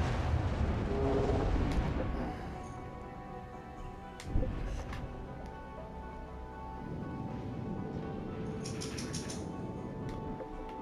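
A cruiser's naval gun salvo in the World of Warships: Legends video game: a low rumbling bed of battle noise broken by one sharp boom about midway.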